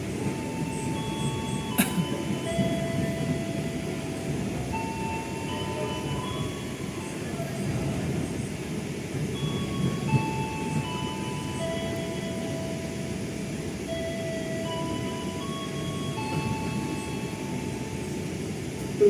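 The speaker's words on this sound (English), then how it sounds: "it is forbidden to open the train's door before the train completely stops" A passenger train on the Joglosemarkerto line from Yogyakarta to Cilacap in Indonesia runs along its rails with a steady broadband rumble and rattle from inside the carriage, along with faint tonal chimes or announcement-like sounds.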